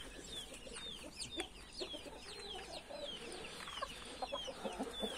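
A laying hen clucks repeatedly among other farmyard fowl, with chirping bird calls overlapping throughout; steady, moderately close, no talking.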